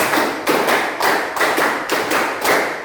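A class of students claps a counted rhythm in unison, loud group claps falling in evenly spaced bursts with brief gaps between, close and clear with no talking over them.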